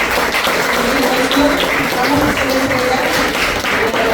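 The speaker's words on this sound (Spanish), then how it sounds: "Un aplauso para Fray Pablo, por favor." Conference audience applauding Fray Pablo, a dense, loud, continuous roar of clapping that fills the room, with a speaker's voice faintly audible beneath.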